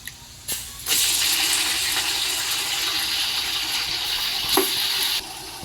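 1.5 kg of well-minced mutton dropped onto fried onions in a pot for yakhni dum biryani, bursting into a sudden loud, steady sizzle that holds with a brief clatter partway through.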